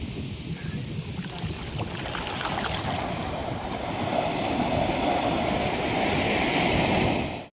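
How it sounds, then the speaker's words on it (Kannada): Waves breaking on a beach make a steady, close rushing roar mixed with wind buffeting the microphone, swelling slightly louder toward the end before cutting off. "ಎಷ್ಟು ಚೆನ್ನಾಗಿದೆ ಅಲ್ವಾ ಈ ಅಲೆಗಳ ಸೌಂಡು"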